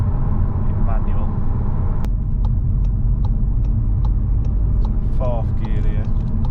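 Car engine and road rumble as a VW Passat 2.0 BiTDI pulls in fourth gear at about 30 mph, a steady low drone heard from inside the car, with a sharp click and some brief squeaky tones mixed in.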